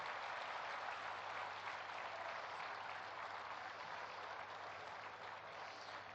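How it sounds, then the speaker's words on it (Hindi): A large congregation at the inauguration of the Swarved Mandir temple claps in a steady, continuous wash of applause that holds at an even level throughout. "सभी साधक साधिकाएं, भाई बहन एक दूसरे के उत्साहवर्धन में तालियों की गड़गड़ाहट कर रहे हैं"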